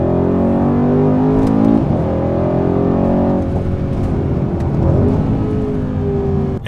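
A 500-plus horsepower twin-turbo car with a multi-clutch automatic, its engine revving loud and close in a steady, sustained roar that swells and shifts pitch over several seconds, with no talking.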